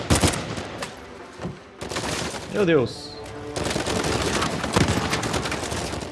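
Gunfire in the video game Uncharted 4: rapid bursts of shots and explosive cracks crowd the scene, dropping out briefly before a dense stretch of firing, with a player's voice exclaiming over it.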